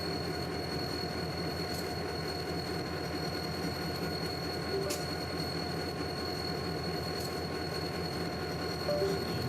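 A New York, Susquehanna and Western freight train led by two SD40-2 diesel locomotives, a steady continuous diesel drone and rail rumble running the whole time at moderate level, with no talk.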